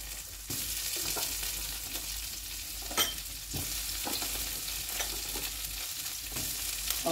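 Vegetables frying in butter in a pot, a close, steady sizzle with occasional stirring scrapes and bursts, no voices.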